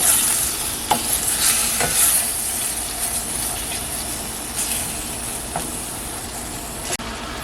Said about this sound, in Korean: 간고기인데 우선 볶아서 기름을 좀 빼고